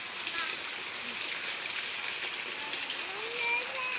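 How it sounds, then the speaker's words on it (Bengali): Rain falls steadily outdoors during a downpour, a dense even hiss of drops with faint background sounds, continuous and moderately loud. "আর এখনো বৃষ্টি পড়তেছে।"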